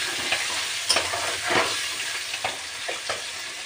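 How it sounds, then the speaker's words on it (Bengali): Potatoes fry in hot oil with a constant close sizzle, broken by several quick scraping stirs of a spatula in the pan, and no voices. "আলুগুলোকে এখন ভালো করে লাল লাল করে ভেজে নেবো আমি।"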